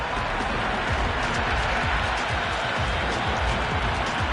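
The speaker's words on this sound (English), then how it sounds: "Will you listen to that crowd? They are loving this." Dense, roaring crowd at a cricket stadium during an India vs South Africa T20 final, cheering and applauding steadily and loudly throughout, a continuous wash of voices and claps.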